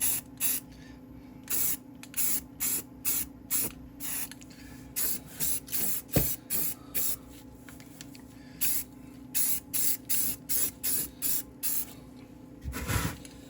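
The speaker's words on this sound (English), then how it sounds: "I have to do it through the rattle can right now." Rattle can spray paint applied in light coats to a 3D-printed alien mask, heard as a long series of short hissing bursts in steady rhythm with brief pauses between them, close and fairly quiet.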